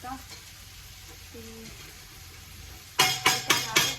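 A tadka tempering hits a hot pan after a quiet stretch, bursting into loud, close crackling sizzle with several sharp spattering pulses, after a faint murmur of a voice at the start.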